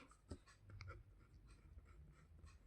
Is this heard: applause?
no